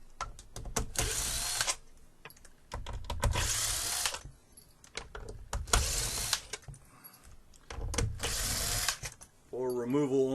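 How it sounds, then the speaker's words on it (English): A power drill whirs in several short bursts, spinning screws out of an Xbox One S, with pauses in between and a voice speaking during the gaps. "For speed purposes, I'm going to do this with"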